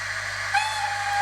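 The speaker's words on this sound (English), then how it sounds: "You've got the whistle." Steam whistle sound played through a Hornby HM7000 sound decoder in a Collett Goods model locomotive, a short thin whistle tone over a steady hiss and hum, heard close.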